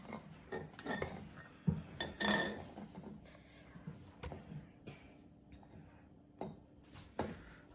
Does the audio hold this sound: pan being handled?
yes